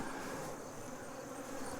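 Honey bees humming steadily at an open hive during a beekeeping inspection, a continuous close buzz of many insects at moderate loudness with no talk.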